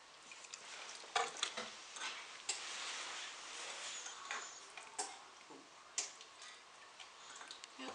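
A spatula scrapes and taps against a bowl while folding pumpkin and vanilla into sugar cookie batter, producing soft, irregular clicks and short scraping strokes, quiet and close.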